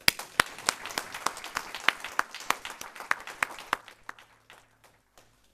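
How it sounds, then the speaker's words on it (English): Scattered applause from a modest audience at a Buddhist temple gathering in London, individual claps distinct and close, thinning out and dying away over several seconds. "I think Mr. Sugiswara Gururatna deserves a second round of applause"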